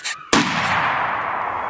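A single loud, sharp rifle shot cracks close by while hunting coyotes in thick cover, its blast decaying into a long rolling echo, with a brief fainter sound just before.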